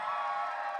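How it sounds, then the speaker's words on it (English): A theatre audience cheers and whoops in a short, dense, steady burst of crowd noise at close range, with no individual voices standing out. "Cheer if you're going to kiss someone tonight."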